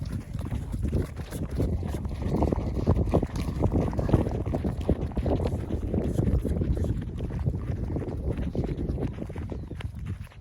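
Strong wind buffets the microphone outdoors on a field, a loud rumbling gusty roar that continues throughout with no voices.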